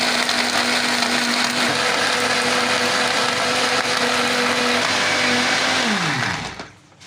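A kitchen blender whirs loudly and steadily as it mixes milk for kulfi, running for about six seconds before winding down and stopping.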